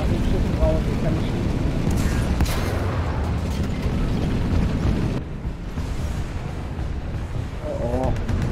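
Tank cannon fire in War Thunder, a British tank battle, with deep booming blasts and rumbling engine noise throughout, loud and close, while someone talks over it.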